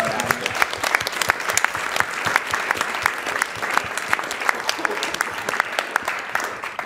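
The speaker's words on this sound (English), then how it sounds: "let's go ahead and give them a big round of applause right now" Big, dense round of applause from a live crowd at a speedrunning charity marathon event, loud and sustained throughout with faint voices mixed in underneath.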